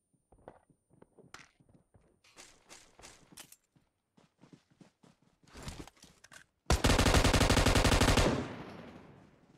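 Rapid automatic gunfire in a multiplayer shooter game erupts in a loud, dense burst after scattered single shots and thuds, then cuts off abruptly.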